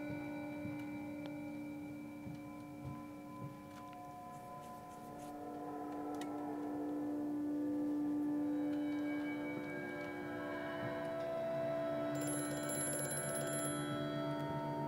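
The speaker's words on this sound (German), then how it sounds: "Das gute alte Telefon." An old telephone rings inside a factory office in the horror game Amnesia: A Machine for Pigs, a quiet, metallic bell tone sustained over a low ambient hum, with a few faint ticks and no talking.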